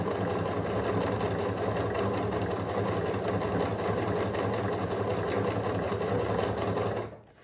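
A Pfaff Select 2.0 sewing machine stitches in a steady, fast, continuous whirring rhythm, loud and close, running alone for about seven seconds before stopping abruptly.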